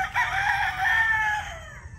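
A young rooster lets out a single drawn-out crow, loud and close, lasting most of two seconds before trailing off.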